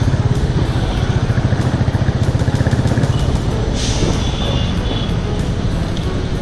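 A motorcycle engine rumbles steadily with a fast, even throbbing pulse on the dusty Dharan–Itahari–Biratnagar highway in Nepal, loud and close, with rising wind and road noise and a passing sound toward the end.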